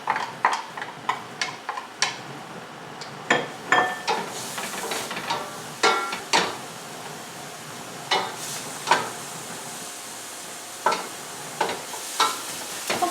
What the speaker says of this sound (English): Okay, the oil is simmering now. We're going to go ahead and add our onions